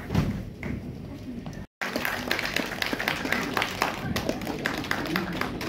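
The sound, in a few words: audience applause at a cultural evening in Kolkata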